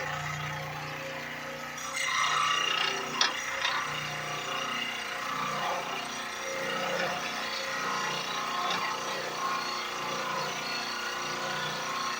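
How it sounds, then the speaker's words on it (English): A Dremel rotary tool carves wood into a morel shape, producing a steady abrasive whir and rasping grind that holds for the whole stretch, with a brief sharp knock early on. "I got this Dremel, what is this, reciprocating saw?"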